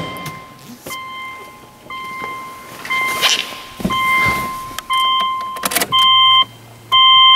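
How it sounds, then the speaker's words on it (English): A 2008 Subaru Outback 2.5i is entered and started: door thunks and electronic chime beeps, then a short burst as the engine cranks and catches, settling into a low idle hum. "I'm going to jump in the car and start it now."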